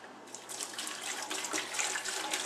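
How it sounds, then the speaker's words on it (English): Brand-new distilled water poured into a clean test cell container, a continuous close splashing trickle that swells slightly as it fills, with no voices. "I'm going to pour the distilled water."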